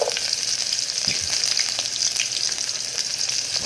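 Bombay onions fry in hot oil in a Filipino home kitchen for sotanghon with tinapa and sardines, giving a steady, close sizzle that holds unbroken throughout with faint stirring clicks and no talk.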